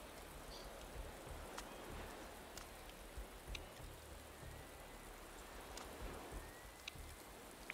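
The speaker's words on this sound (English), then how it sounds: "It's raining, too, so." Steady rain falls in the Motorsport Manager racing game, a continuous soft hiss of drops with occasional faint patters, even and unbroken throughout.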